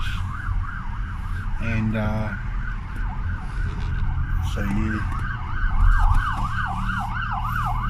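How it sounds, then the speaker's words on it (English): A fire engine siren wails in a rising and falling cycle at moderate distance, under a voice and street noise. "the fire engine"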